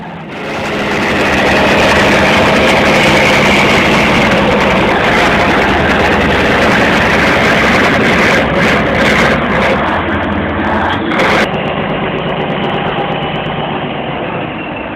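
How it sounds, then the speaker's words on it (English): A Kirovets K703 tractor engine roars loudly and steadily as it strains to pull stuck cars along a heavy, muddy road, a deep continuous drone with some rattling near the end, close and alone without talk. "Kirovert's K703, a powerful and reliable tractor, tries its best to pull the stuck cars on the heavy road."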